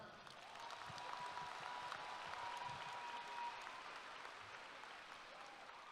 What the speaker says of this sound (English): Let's give another round of applause to our choir.